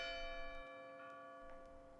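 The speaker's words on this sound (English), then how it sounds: "The bell struck 12." A deep bell strikes twelve in a stage play, with a long, sustained resonant hum, faint and reverberant, its tone lingering through the whole stretch.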